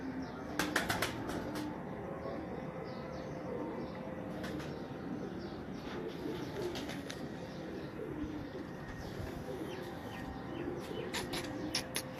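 Breeder pigeons in a loft make soft, repeated coos, and several quick bursts of wing flapping stand out clearly near and close; a voice talks only lightly in the background.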